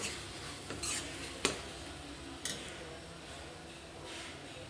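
Turmeric is stirred into tomato curry in a pan: soft, faint scraping with a few light spoon taps against the metal, quiet and close.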